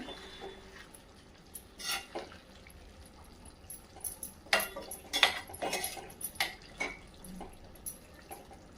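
Kadhai paneer gets stirred in a pan, with a quiet backdrop broken by scattered scraping clinks and clatters of a spoon against metal that bunch together in the second half.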